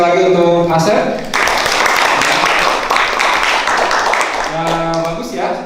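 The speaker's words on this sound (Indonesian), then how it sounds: "beri tepuk tangan sekali lagi untuk Asep" A school audience at a public speaking workshop bursts into loud, dense applause for a student speaker, lasting a few seconds between stretches of a nearby voice talking before and after.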